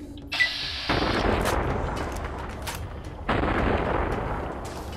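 Rifle gunfire in the video game Fallout: New Vegas, loud sharp shots followed by long booming rumbles, two heavy blasts a few seconds apart.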